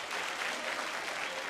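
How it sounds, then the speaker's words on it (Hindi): Audience at a Bhojpuri music show bursts into a short, dense round of clapping, even and moderately loud, heard on its own. "जोरदार ताली बजाएंगे लाडो खातिर।"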